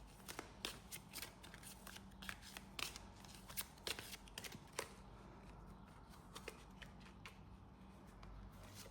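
Tarot-style cards are shuffled, drawn and handled for a card reading, a quiet run of rapid papery flicks and taps close to the microphone, with no talking.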